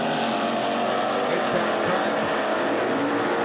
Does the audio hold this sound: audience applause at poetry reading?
no